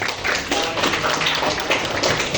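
A classroom group applauds in a brief burst of quick, overlapping claps that hold at a steady, fairly loud level for a couple of seconds.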